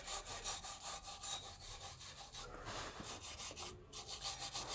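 Crud is scrubbed out of a car's brake disc hub before a new disc is fitted, making steady, rhythmic rasping strokes that are close but fairly quiet, with no voices.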